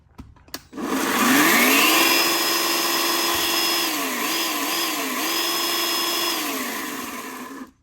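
An Einhell cordless battery chainsaw spins up after a click, then whines at a steady high pitch for several seconds with a few brief dips in speed before cutting off, loud and close with no voices.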